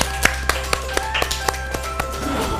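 Steady, evenly paced clapping for a child in the studio of City Kids, a children's TV show on LTV, with about four crisp claps per second over a low electrical hum.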